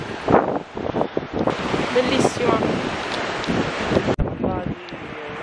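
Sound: wind blowing at the seaside

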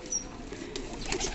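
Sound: released fancy pigeons cooing

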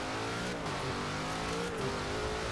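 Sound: Ford Raptor driving in video game Forza Horizon 4

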